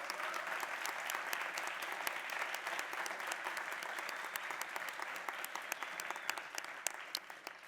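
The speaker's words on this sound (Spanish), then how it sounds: "un fuerte aplauso" Sustained applause from an audience at a panel event on social violence and peace, a dense even patter of many clapping hands heard at moderate distance without a voice over it.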